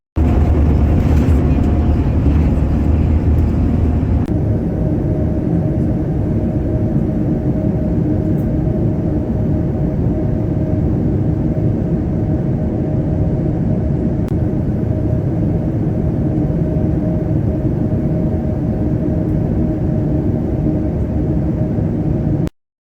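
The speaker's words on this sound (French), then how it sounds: "on atterrit dans 10 minutes" Steady, loud low roar of an airliner cabin during descent before landing, the engine drone continuing without a break from start to end.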